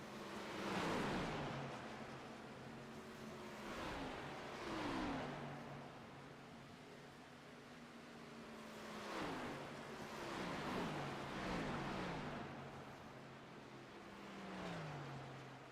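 Stock race cars in a sim racing game at Homestead, engines swelling and fading as they sweep past in repeated passes, each rising pitch followed by a falling whine, with quieter gaps between the loud passes.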